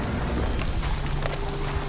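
Rain effect in a ghost story set in a forest: a continuous patter and hiss of rain falling steadily, fairly loud throughout, with no voices.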